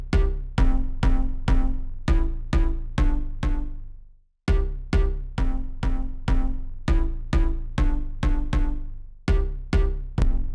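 A punchy synth bass line from a hyperpop remix pulses through a steady run of short, decaying notes, pausing briefly midway before the pattern resumes.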